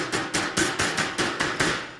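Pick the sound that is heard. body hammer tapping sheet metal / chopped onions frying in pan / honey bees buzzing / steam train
body hammer tapping sheet metal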